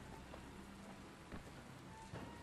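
Steady rain in the video game Dying Light, a constant hiss of falling drops on surfaces with a few brief louder patters, even and unbroken throughout.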